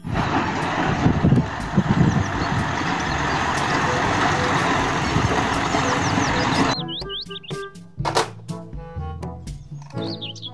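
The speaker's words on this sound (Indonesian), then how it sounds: "Mobil dump truck." A toy dump truck gives a steady, noisy rumbling hum for several seconds, then cuts to a quick run of bright chirpy electronic tones and beeps, loud and close with no talking.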